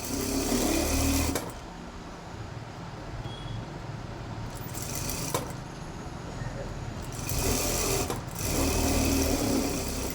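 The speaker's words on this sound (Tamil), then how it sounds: "போடும்போதே நான் சுற்றியும் தையல் போட்டுக்கிறேன்" Sewing machine stitching along the neckline of a blouse, a steady mechanical whir running in long bursts that ease off briefly, then pick up again.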